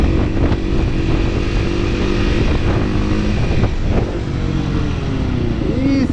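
A motorcycle engine drones close by and revs unevenly, with faint voices mixed into the steady roar.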